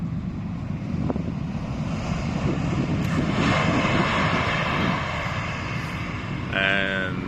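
An Air Canada airliner lands on the Polderbaan runway at Amsterdam, a steady, distant jet roar mixed with wind buffeting the microphone outdoors.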